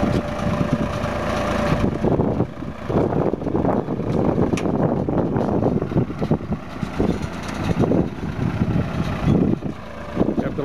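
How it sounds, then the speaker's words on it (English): A Massey Ferguson 431 tractor engine running on a farm during tomato planting, loud and close with a rough, fluctuating rumble and gusts of wind noise over it. "This is a Massey Ferguson 431 tractor."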